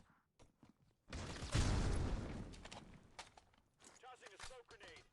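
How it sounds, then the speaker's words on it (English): A flashbang grenade goes off in a video game as one loud, broad burst that fades over a couple of seconds, followed by a voice speaking. "Flashbang out!"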